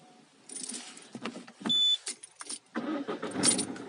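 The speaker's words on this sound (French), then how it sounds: "On va essayer de démarrer le véhicule avec la nouvelle clé." Keys jangle briefly, then a Peugeot 308's engine cranks and turns over with a short whirring start using a newly programmed key, close by and fairly quiet.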